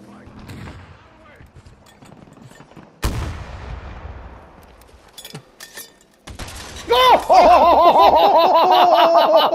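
A single loud gunshot rings out from a long-range M5 shot in a video game, a sharp broadband crack with a decaying tail, followed by rustling and then excited voices talking over the top.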